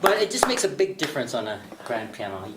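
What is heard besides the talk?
None of the usual background noises is heard.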